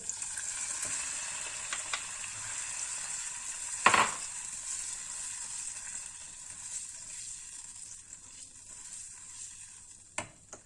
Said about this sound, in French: je vais rajouter la tomate taillée